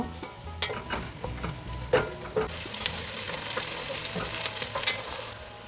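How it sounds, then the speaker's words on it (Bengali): Chopped onions fry in hot mustard oil for a spicy meat curry, a soft steady sizzle broken by sharp spatula clicks and scrapes against the pan, the hiss swelling louder midway. "পেঁয়াজগুলো ব্রাউন ব্রাউন করে ভেজে নেব"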